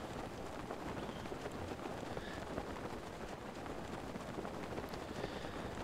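Steady rainfall in the video game The Legend of Zelda: Breath of the Wild, a continuous even hiss of drops that holds at one level throughout with no pauses.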